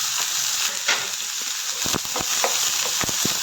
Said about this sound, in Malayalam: ചെറുതായിട്ട് അതൊന്ന് വഴറ്റിയിട്ട് അതിലേക്ക് നമുക്ക് നമ്മുടെ ചെറിയ ഉള്ളിയും കൂടി തട്ടിക്കൊടുക്കാം.